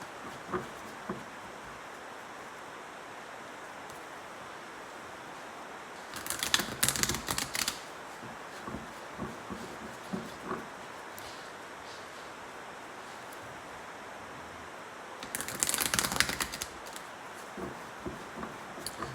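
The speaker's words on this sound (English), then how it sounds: "I'm going to shuffle the cards" Tarot cards are shuffled in two short bursts of quick riffling and flicking, alone in a quiet room with faint scattered taps between them.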